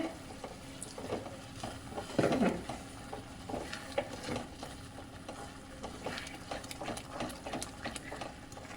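A spoon stirs masala with peas and mushrooms as it roasts in a pan, giving a low steady sizzle with scattered scraping taps and one louder clatter, close by, with no talking.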